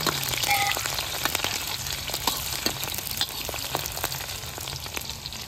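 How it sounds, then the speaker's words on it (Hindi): Onion and chili hit hot oil already holding fenugreek in a kitchen pot, giving a close, steady crackling sizzle scattered with sharp pops and spits throughout, with no talking. "भुन चुकी थी मेथी और इसमें डाल देंगे प्याज मिर्च।"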